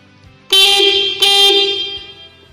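A Honda Vario 150 motorcycle horn, wired through a relay, sounds twice up close, two loud buzzy honks of about half a second each, with the second fading out slowly.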